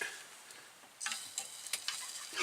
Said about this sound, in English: You gotta stir it a couple times while it's coming up to the boil